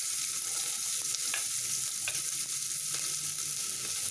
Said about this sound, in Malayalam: കടുക് പൊട്ടിക്കഴിയുമ്പോൾ ആദ്യം ഈ ചെറിയ ഉള്ളി നമ്മൾ അതിനകത്തേക്ക് ഇട്ട് കൊടുക്കണം.